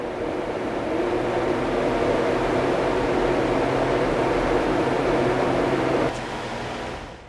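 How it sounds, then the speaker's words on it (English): A blower door test fan runs in a house doorway as a steady, loud broadband whoosh with a low hum, then drops to a lower level near the end. "I'm going to turn on the fans."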